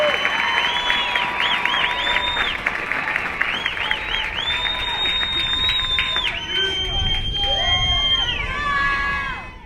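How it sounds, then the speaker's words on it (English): A large crowd at a graduation ceremony for new airmen and guardians applauds and cheers, with whistles and excited shouts rising over sustained clapping and the hubbub of many voices. "how about one more round of applause for 823 of America's newest airmen and guardians"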